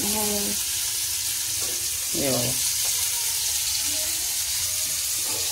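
Hilsa fish frying in a little oil gives a steady broadband sizzle throughout, with a voice speaking briefly over it.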